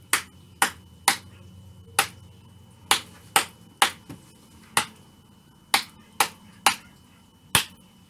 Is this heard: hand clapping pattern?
yes